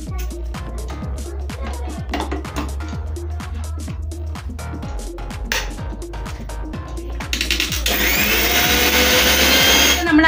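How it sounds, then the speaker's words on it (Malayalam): An electric mixer grinds kudangal leaves with coconut, a loud, rhythmic churning with repeated knocking that swells into a continuous full roar near the end. "നമുക്ക് ഈ കുടങ്ങലിൻ്റെ ഇലയും തേങ്ങായും കൂടെ ഫസ്റ്റിൽ ഒന്ന് അരച്ചെടുക്കാം"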